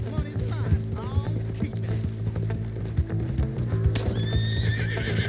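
A horse gallops during a chase in the video game Red Dead Redemption 2, with rapid rhythmic hoofbeats up close, a whinny rising near the end, and other game sounds underneath.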